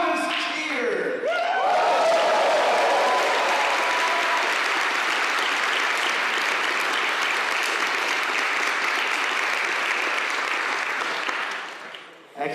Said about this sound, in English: Can I get the loudest cheer?